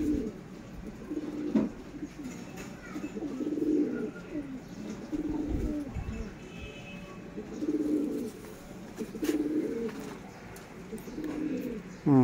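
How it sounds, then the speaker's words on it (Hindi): Sialkoti pigeons coo in repeated soft, throaty phrases on a breeder's rooftop loft, a steady rolling rhythm recurring every second or two at close range. "माशाल्लाह बड़ा कबूतर है"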